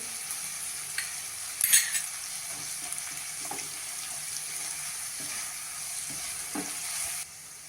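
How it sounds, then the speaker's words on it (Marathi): Onions fry in a pan with salt and ginger garlic paste, making a continuous soft sizzle broken by several stirring scrapes and a brief louder burst before it cuts off. "कांद्यावर थोडस मीठ घालतीये म्हणजे कांदा लवकर शिजेल आलं लसूण पेस्ट घालूया"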